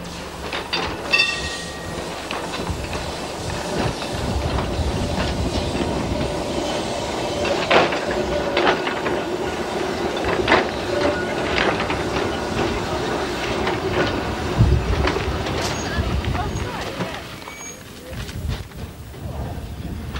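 An electric mountain railway car on the Isle of Man rumbles steadily along the track with rhythmic clicks and squeals, continuous and fairly loud throughout.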